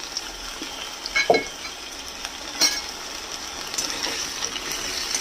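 Potato and raw green banana frying in mustard oil with bay leaves in a pan, giving a soft, continuous sizzle with a couple of sharper spatters and stirring clicks, heard alone without talk.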